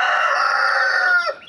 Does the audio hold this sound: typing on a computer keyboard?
no